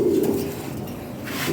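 Toy Lahori pigeons coo in a steady, low, throaty murmur close by, continuous throughout with faint background noise and no voices over it.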